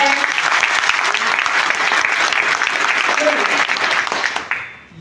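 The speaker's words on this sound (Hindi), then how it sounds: "एक बार ताली बजाकर दिखा सकते हैं कितने तैयार हैं?" An indoor business-seminar audience claps together in a dense, loud burst of applause that holds steady for about four seconds, then fades out.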